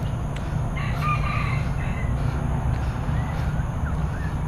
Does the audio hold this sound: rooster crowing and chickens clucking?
yes